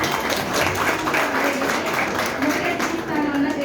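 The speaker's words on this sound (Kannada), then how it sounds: "ಚಪ್ಪಾಳೆ ಇರಲಿ" Audience applause at a Kannada-language academy event as a chief guest is invited to preside, a steady wash of clapping from a crowd at moderate distance, continuous throughout with no clear voice above it.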